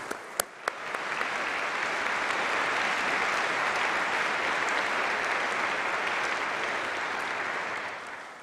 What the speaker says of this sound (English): a round of applause for our doctoral students